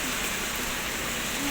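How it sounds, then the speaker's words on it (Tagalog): Rain falls outdoors in Laguna, Philippines, as a steady, even hiss of drops that holds at a constant level throughout with no talking. "At naabutan pa nga ng ulan."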